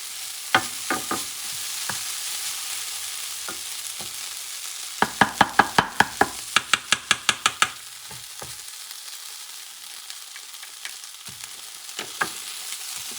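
Caramelizing ingredients for arròs negre are stirred in a pan over a low, steady sizzle, with scattered scrapes that turn into a quick rhythmic run of about a dozen sharp taps and scrapes midway.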